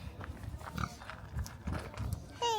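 A farm pig grunts in short, low bursts close by while people talk over it, with a brief higher squeal near the end.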